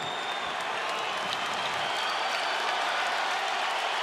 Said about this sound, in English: Crowd enjoying the back and forth nature of it